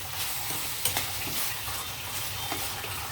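Tomatoes frying in oil for an Andhra-style dried prawn curry, with a steady close sizzle and the scrape and clatter of stirring, and no talk.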